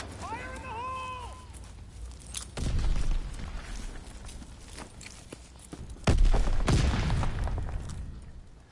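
A grenade blast in Call of Duty: WWII, a heavy thump and rumble standing out from ongoing battlefield noise, with shouted voice lines and talking around it.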